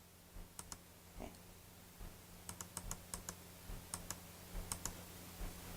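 A computer keyboard is typed on during word-processing work, quiet close clicks arriving in short irregular clusters over a low steady hum, with no speech.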